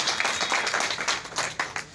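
A crowd at a celebration event gives a short burst of applause, fast overlapping claps heard fairly close and loud for a couple of seconds.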